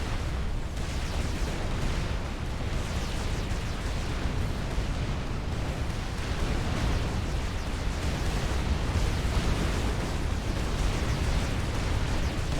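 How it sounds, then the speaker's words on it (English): Explosions and fires from a Supreme Commander Forged Alliance Forever ladder match rip along a line of tier-one point defense turrets, forming a dense, continuous roar of overlapping blasts and rumbling bursts with no talking. "You see some fires and explosions going down on that line of T1 PD"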